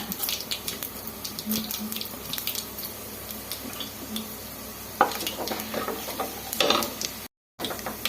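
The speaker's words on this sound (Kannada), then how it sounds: "ಈಗ ಕಡಲೆಬೇಳೆ, ಉದ್ದಿನಬೇಳೆ, ಜೀರಿಗೆ ಸೇರಿಸ್ಕೊಳ್ಳೋಣ. ಎಲ್ಲ ಸೇರಿಸಿ ಸ್ವಲ್ಪ ಫ್ರೈ ಮಾಡ್ಕೊಳ್ಳೋಣ" Chana dal, urad dal and cumin frying in a pressure cooker with spluttered mustard seeds, a continuous close sizzle with occasional clinks and scrapes of stirring and a brief cut to silence near the end.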